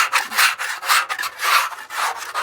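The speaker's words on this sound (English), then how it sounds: "So the inside, we're just gonna scrape it out" Scraping the inside of a dirty offset smoker, steady back-and-forth rasping strokes of a tool against the steel chamber in a quick even rhythm, loud and close, with no voices.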